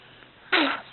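A young child lets out one quick, close sneeze, a short breathy burst after a moment of near silence.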